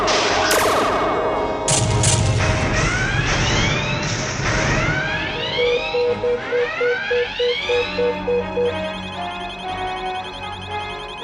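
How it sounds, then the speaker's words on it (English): Sci-fi starship firing photon torpedoes: a series of loud descending and rising laser-like sweeps and bursts, then a rapid pulsing electronic tone and a high warbling whine over a low hum. "the Azrael is firing photon torpedoes"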